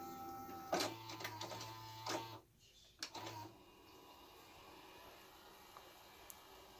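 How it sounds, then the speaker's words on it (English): A 1984 Toshiba Betamax V-600C VCR loads a tape with brief mechanical whirring and clicking bursts, a steady low motor hum for a couple of seconds, then a quiet mechanism hiss, close and fairly faint. "You can hear it loading the tape."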